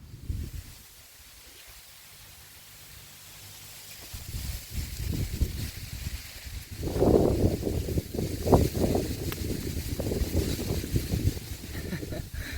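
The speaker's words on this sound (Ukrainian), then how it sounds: "Ще й вітер роздувся, але на вулиці більше 40 градусів." Summer wind gusting outdoors at a carp fishing spot in over 40-degree heat, a steady low rumbling buffet that grows louder and more turbulent midway and keeps going to the end.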